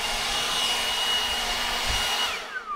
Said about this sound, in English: if I exacerbate it with this blower